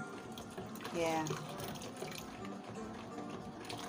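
Liquid gently poured into base cream while it is being mixed, a soft steady trickle and swirl heard close, with a brief louder splash early on and a voice speaking briefly.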